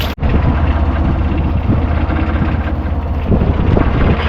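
Strong land breeze blowing at sea over a small crab-fishing boat on an autumn night, a loud, steady wind roar buffeting the microphone with a low engine-like rumble underneath, continuous throughout.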